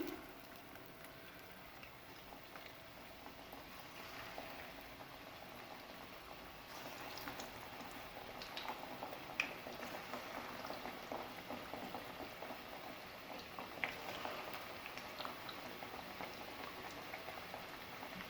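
Potato slices frying in oil over a medium flame for pakoras, a soft continuous bubbling hiss that swells slightly midway, faint and steady with no voices.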